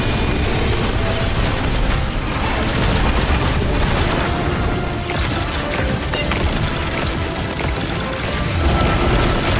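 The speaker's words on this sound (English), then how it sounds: "Who's shooting at me?" Gunfire in a dungeon shooter video game, loud dense bursts of shots and booms packed together without pause, a continuous harsh barrage filling the whole stretch.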